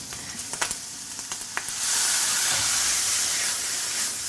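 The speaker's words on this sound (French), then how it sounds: "Et là on va déglacer avec Le vin blanc." White wine hits a hot pan of chipirons and bursts into a loud, steady sizzle and hiss up close, after a few sharp clinks and taps of the pan on the heat.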